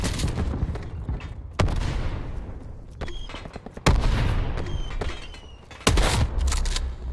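Several loud gunshots in Call of Duty: Black Ops 4 ring out at irregular intervals, each sharp crack followed by a rumbling echo, with no talking.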